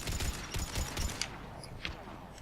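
Gun in Mass Effect 3 firing a quick series of sharp, punchy shots close up, then fading to scattered faint pops.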